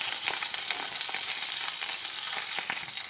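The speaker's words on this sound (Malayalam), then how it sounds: "ഓയിൽ ചൂടായിട്ട് നമുക്ക് കടുക് ഇട്ട് കൊടുക്കാം. 2 ടേബിൾ സ്പൂൺ കടുക് ഇട്ട് കൊടുക്കും. കടുക് പൊട്ടുകയാണ്." Two tablespoons of mustard seeds crackle and sizzle in hot oil for a sambar tempering, with a steady frying hiss and scattered sharp pops close by throughout, no voices.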